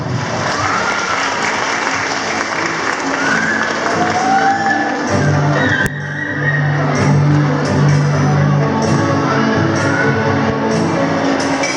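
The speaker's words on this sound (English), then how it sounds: "a round of applause, everyone" Applause and cheering from a live audience at the Miss Queen Bahaghari Itogon 2023 LGBTQIA+ pageant, a steady loud roar of clapping with shouts that carries through the whole stretch.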